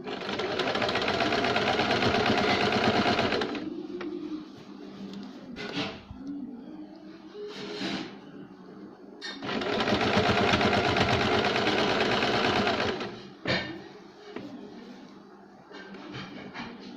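Sewing machine stitching a folded seam on cold sleeve fabric, two long bursts of rapid steady needle chatter separated by quieter pauses with short clicks and fabric handling.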